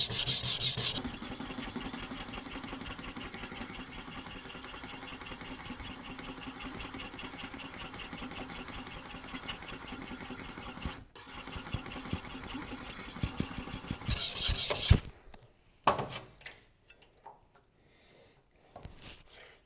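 The tip of a German knife ground on a whetstone gives a loud, continuous rasping of steady back-and-forth strokes that stops near the end, followed by a few faint handling sounds.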